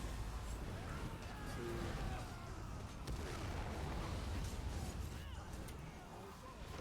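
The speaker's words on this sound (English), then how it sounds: "Explosion." A raid explosion in a video game, a continuous deep rumbling boom that fills the whole stretch at steady loudness, with no clear separate blasts.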